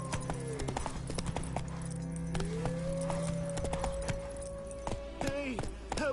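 Hooves of the horse Roach clip-clop steadily on a road in The Witcher 3, a close, even trotting rhythm that runs beneath music and a character's voice speaking.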